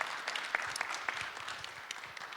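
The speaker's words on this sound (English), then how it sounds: "So let's give him a big round of applause." An audience at a live event claps for a performer, a soft, scattered applause that stays fairly quiet and distant throughout.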